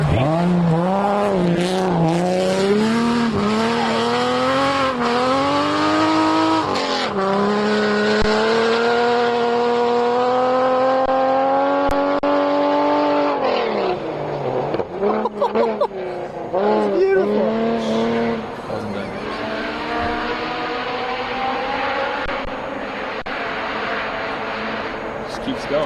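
Rally cars on an Olympus Rally stage near Stillwater scream past one after another, engines rising and falling through gear changes with loud close passes and tire noise, while spectators talk and shout over them.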